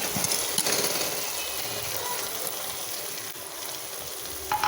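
Jackfruit pieces frying with masala in oil in a pan for biryani, a steady close-up sizzle with occasional crackles and stirring scrapes, no talking.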